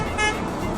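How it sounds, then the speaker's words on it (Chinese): A car horn sounds in a short sustained toot amid street traffic noise at a Los Angeles protest where residents honk together in protest, heard fairly close for under a second. "市民集体鸣笛表示抗议。"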